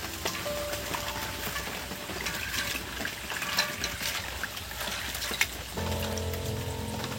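Water splashing and trickling steadily as chana dal is washed in a pail, a continuous wet patter with a brief shift near the end.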